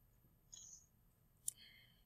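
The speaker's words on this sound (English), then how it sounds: "I just click OK" Two soft, quick mouse clicks sound in a quiet room, the second a bit sharper, as an OK button is pressed on a computer. A faint low hum runs underneath.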